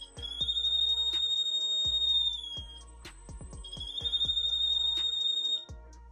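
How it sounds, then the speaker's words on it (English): A homemade breadboard fire alarm circuit set off by a lighter flame near its infrared LED sounds two long steady high-pitched tones, each lasting about two seconds with a gap between them, amid scattered clicks and taps. "Now let's check whether our fire alarm circuit works."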